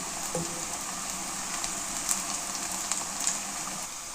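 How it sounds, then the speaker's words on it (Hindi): Onions frying in a pan for a palak chicken gosht, a steady soft sizzle and crackle with a few faint pops, close and unbroken, no one talking. "तो यहाँ पे जी अनियन फ्राई हो गए"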